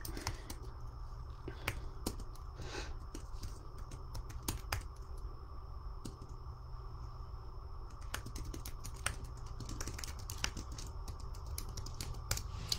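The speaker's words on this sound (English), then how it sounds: "I'll actually even type it in the comments really quick" Typing on a computer keyboard, a run of faint, irregular key clicks with scattered sharper taps over a low steady background hum, close and quiet.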